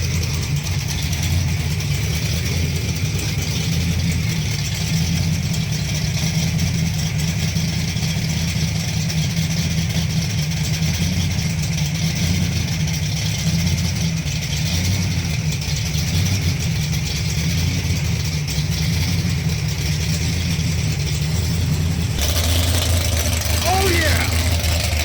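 A Hemi V8 engine in a car idles steadily in a garage, a deep continuous rumble held for most of the stretch, with a brief shift in character near the end.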